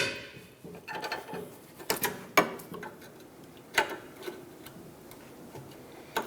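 Wrench working rusty caliper bracket bolts loose on a 2008-2013 Nissan Rogue, a scatter of sharp metallic clicks and ratcheting snaps with scraping in between, close, irregular and without talk.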